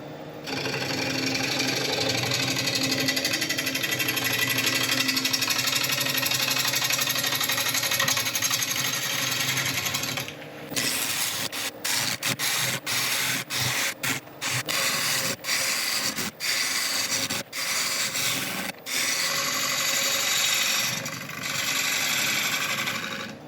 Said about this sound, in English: We can start turning at about 700 RPM. I'll be starting off with a 1/2 inch ball gouge